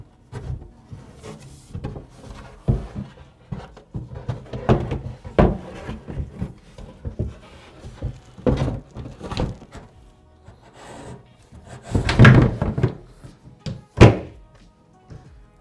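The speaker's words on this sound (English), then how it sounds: "After the shelf pins are in, we will now install the actual shelf." Assembly of an RTA kitchen cabinet shelf produces a series of close wooden thunks, knocks and rubbing sounds at an irregular pace, with a few louder bumps toward the end.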